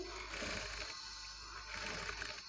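A sewing machine runs steadily, stitching invisible piping onto the neck of a pot-neck garment, with a continuous close mechanical whir and no pauses over the short stretch.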